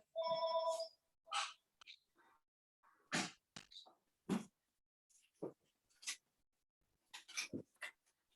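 A landline telephone in a home rings with a short electronic trill at the start, followed by scattered clicks, rustles and faint background noises in a quiet room.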